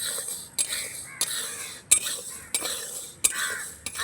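Peanuts and sago dry roasting in a pan, stirred with a metal utensil: sharp scraping clinks every half second or so over a soft dry rattle, close and fairly quiet.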